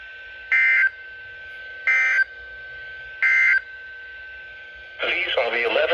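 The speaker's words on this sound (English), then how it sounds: "This concludes the NOAA Weather Radio All Hazards Tone Alert Test." Midland 74-210 and WR-30 NOAA weather radios on WXL70 in Charlotte, NC, sound three short identical data bursts, each followed by a steady tone, then a longer, harsher burst; a broadcast voice is faintly present.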